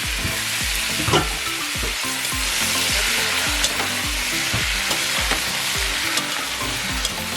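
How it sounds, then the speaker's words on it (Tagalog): Beef for mechado poured into a hot pan, crackling and sizzling loudly and continuously, with steady bubbling pops and occasional stirring scrapes, no talking. "And now let's pour in the meat. Alright. Love the sound."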